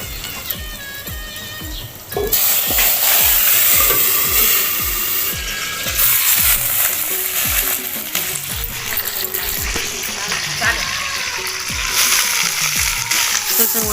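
Brinjal sizzles and crackles in hot oil with a fenugreek and chilli tempering while a spoon scrapes and stirs it in rhythmic strokes. The frying grows louder after the first couple of seconds.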